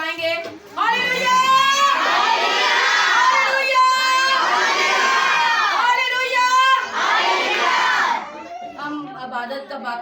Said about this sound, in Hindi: हम एक जोरदार नारा लगाएंगे, हालेलुया